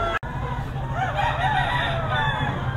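A rooster crows at a busy pet market in Bocaue, Bulacan, its call rising over a constant crowd murmur and low rumble, fairly near.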